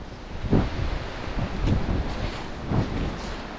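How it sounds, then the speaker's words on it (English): Strong gusty wind sweeps across open moorland, roaring and buffeting the microphone in repeated surges that rise and fall over a steady rushing background. "That wind is really powerful when it gets going."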